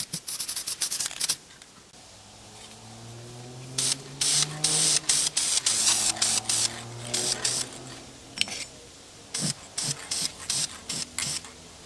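Duplicolor Chevrolet orange spray paint hisses from an aerosol can onto an oil filter can from a 1961 Scout, in a rapid series of short close bursts separated by brief pauses, with the can's mixing ball rattling at the start.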